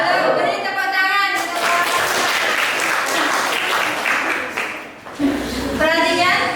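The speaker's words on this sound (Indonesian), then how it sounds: "Beri tepuk tangan." A classroom of students gives a burst of applause after a group presentation: dense, lively clapping that swells and then tapers, followed by a teacher's voice speaking.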